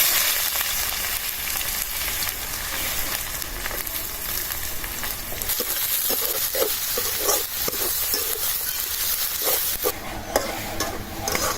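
Chopped onions fry in a pan with dried chilli and cumin for a sea fish curry, a dense continuous sizzle broken by repeated scraping stirs from a spatula, close and steady with no voices.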